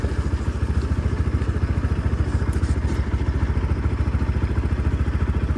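A motorcycle engine runs with a steady, rapid thumping pulse on a winding mountain district road, loud and close throughout with a slight rattle.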